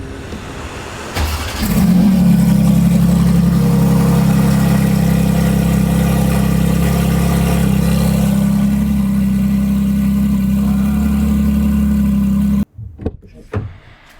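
Mercedes G63 cold start: a short crank, then the engine catches and settles into a loud, steady low idle that holds for about ten seconds before cutting off abruptly, with a few faint knocks after.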